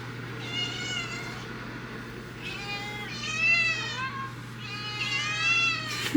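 Kittens meowing indoors, several high, wavering mews in short bursts, close and clear over a steady low household hum.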